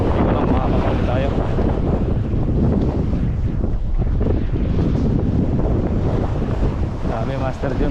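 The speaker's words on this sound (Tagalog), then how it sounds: "Lakas pa naman ang hangin" Strong mountain wind buffets the microphone with a continuous loud roar and rumble, gusting steadily throughout with muffled voices buried underneath.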